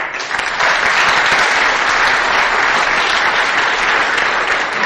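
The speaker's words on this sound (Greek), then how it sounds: "αξίζει ένα χειροκρότημα για αυτά τα παιδιά" An awards audience applauds sixteen track and field athletes from Arcadia, dense sustained clapping that swells after a brief start and holds loud and even throughout, close to the microphone.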